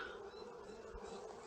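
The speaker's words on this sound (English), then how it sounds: "Round up those bees." Honey bees buzz steadily around a hive at a nuc-to-brood-box transfer, a dense continuous insect drone at moderate distance with no voices.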